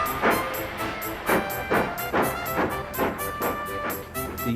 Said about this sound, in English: Then the driver pulled the lever and Edward puffed away.